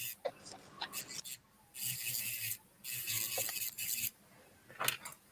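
A rotary tool bit spinning at 5,000 RPM grinds in two longer bursts of gritty, rasping whine, with brief scraping and handling noises between them, close by.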